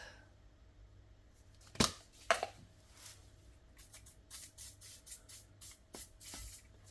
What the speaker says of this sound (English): I'm gonna spray some rust solvent.